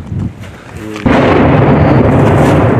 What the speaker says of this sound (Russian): Все время стреляют с самого утра.